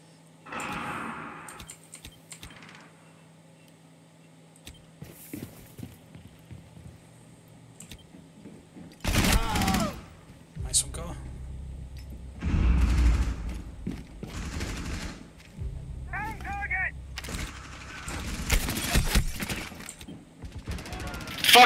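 Video game gunfire in sharp bursts and rapid rattling volleys, several loud clusters separated by quieter gaps, with people talking over parts of it.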